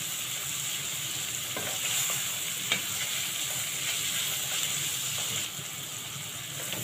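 Onions frying in a pan, a steady, moderate sizzle with faint occasional scrapes and crackles, continuing evenly before easing slightly near the end, with no talking.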